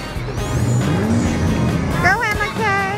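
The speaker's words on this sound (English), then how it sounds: "Now they're riding a car." Engine revving and racing sounds from an arcade car-ride driving game fill a noisy arcade, with continuous motor roar, a rising whine and warbling electronic effects under a voice.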